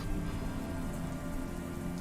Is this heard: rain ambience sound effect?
yes